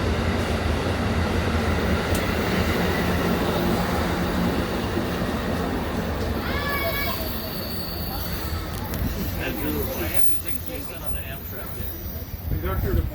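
An Amtrak California train rolls past nearby in Niles Canyon, a loud continuous rumble of wheels and rail noise with a sharp squeal partway through, then the roar fades. No one speaks.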